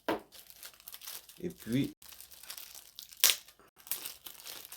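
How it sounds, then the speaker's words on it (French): Crinkling, tearing plastic packaging rustles in bursts as a power cable for a wifi access point is unpacked, with someone speaking between the rustles. "Je déballe mon câble d'alimentation."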